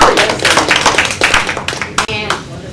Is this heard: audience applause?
yes